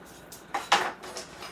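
A knife tapping against a cutting board while cutting avocado into chunks, a few short sharp knocks at uneven intervals, close and fairly quiet.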